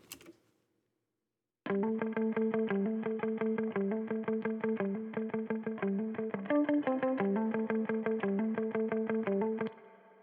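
Clean-tone guitar loop with reverb and delay, a steady rhythmic pattern of plucked notes repeating for several seconds after a short silence, then ringing out, played alone without any talking.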